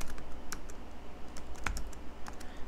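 Keys clatter on a computer keyboard as shell commands are typed in a FreeNAS 11.2 setup session, a few distinct close clicks spaced irregularly over a quiet room hum.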